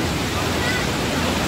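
A strong river current rushes near a waterfall at Jonha Falls, Ranchi, a loud, close, unbroken roar of churning water with no pauses.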